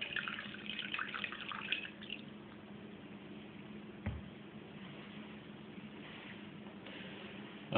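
Wine pours through an aerator into a wine glass, a soft, quiet trickle of liquid running for a couple of seconds, then fading to faint dribbles.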